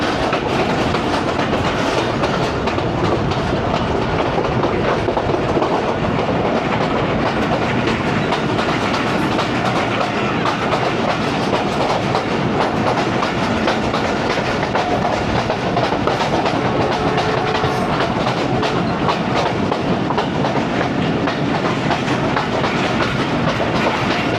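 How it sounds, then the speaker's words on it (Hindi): Allama Iqbal Express passenger train running through on rail tracks between Lahore and Narowal, a loud continuous rumble with rhythmic clickety-clack of wheels over rail joints throughout. "यहाँ से भी रन थ्रू कराएंगे क्योंकि अल्लामा इकबाल एक्सप्रेस यहाँ की ग्रीन लाइन।"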